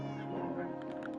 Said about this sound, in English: Oh man, I wasn't trying to make another cat.